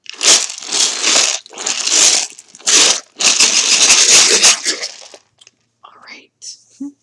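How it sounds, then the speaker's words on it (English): Playing cards shuffled close up, several bursts of dense crisp riffling separated by short pauses, followed by a few quieter taps and handling sounds. "I will have to shuffle a little bit"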